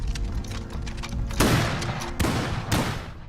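Volleys of gunfire from soldiers in a war film about Chinese forces battling French troops, several sharp loud bursts crackling over a rumbling battle din, with no talking.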